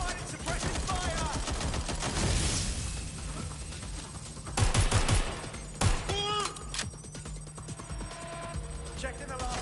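Gunfire in Watch Dogs: Legion, bursts of shots and impacts blending with game noise and overlapping speech, with louder clusters of shots later on.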